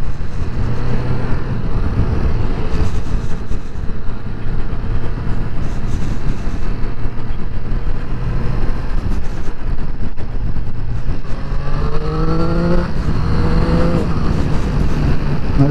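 A Triumph Triple RS motorcycle overtakes, heard from onboard as a continuous loud engine drone over heavy wind rush, with the revs climbing sharply toward the end as the bike accelerates past.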